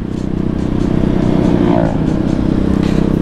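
Kawasaki KLX supermoto motorcycle being ridden, its engine droning loud and steady close to the microphone with a brief rise in revs midway, and no talking over it.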